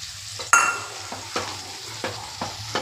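Rice stirred into milk in a pot for jaggery payesh: soft scraping strokes of a spoon recurring every half second or so after a sharp clink, faint and close, with a low steady hum underneath.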